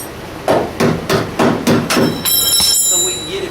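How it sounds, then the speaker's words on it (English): Hammer-and-dolly work on the rocker panel of a 1988 Suzuki Samurai: about six sharp metal strikes at a steady rhythm, close and loud, then a brief high metallic ring. "we're gonna hammer and dolly this"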